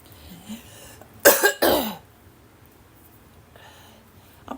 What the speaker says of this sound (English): I am coughing my head off now after I've been outside.